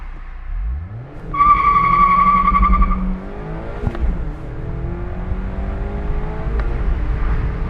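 A 2021 Mazda MX-5 Miata RF revs hard and launches with traction control off, climbing in pitch through quick gear shifts with a brief tire chirp, loud and close with steady roaring acceleration.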